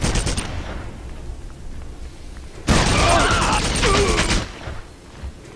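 Heavy machine gun firing in Red Faction, a quieter burst early then a loud sustained stream of rapid shots for over a second before cutting off, with a voice talking faintly beneath.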